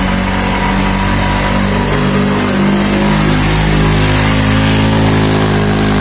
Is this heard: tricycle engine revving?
yes